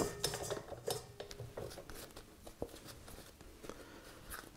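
Bread dough for Irish Waterford blaa lifted out of a metal stand mixer bowl, with scattered light clinks and scrapes of dough and utensils against the bowl, close and fairly quiet, no talking.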